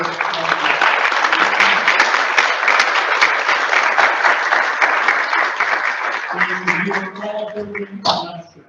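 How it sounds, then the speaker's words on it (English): A conference audience gives a big round of applause for investors and entrepreneurs at a final event, with loud, steady clapping that fades after about six seconds as a voice begins talking over the tail. "we want a big round of applause for"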